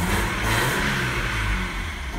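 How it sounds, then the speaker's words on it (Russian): BMW E46 with a 1.9-litre M43B19 petrol engine revving steadily, a loud, continuous mid-pitched roar that holds level for about two seconds with no voices. "Обороты набирает хорошо."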